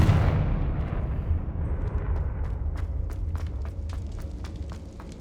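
A Confringo blast spell explodes in Hogwarts Legacy, a loud booming burst that rumbles and decays over several seconds, with a few sharp crackling pops following near the end.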